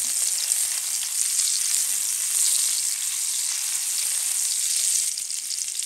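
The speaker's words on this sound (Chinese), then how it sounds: "锅里面油热啦，加入葱姜爆香" Scallion and ginger sizzle in hot oil in a wok, a steady loud crackling hiss that carries on without a break, close up and with no voices.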